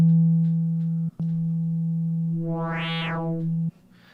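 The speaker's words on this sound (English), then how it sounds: "And now we can hear how FM modulation affects the signal." FM-modulated synth bass note from the Serum software synthesizer: a steady low sine-like tone with a brief dropout, then a bright rising and falling sweep of harmonics before it cuts off, alone with no voice.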